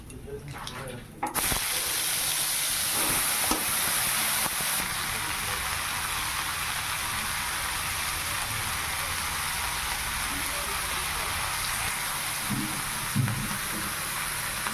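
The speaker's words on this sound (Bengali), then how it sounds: "এই যে ফোড়নে দিলাম শুকনো লঙ্কা, আদা, আর দিলাম বড়ি, দিলাম কালার বড়ি, আর এই যে এখন দিচ্ছি সর্ষে" Dried chilli, ginger, bori and mustard seeds hit hot oil for a tempering. A loud, steady sizzle erupts abruptly and hisses on unbroken for a long stretch.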